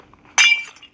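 A block of ice breaks in Minecraft: one sharp glassy crack and clink, bright and brief, followed by a short fading tail in near silence.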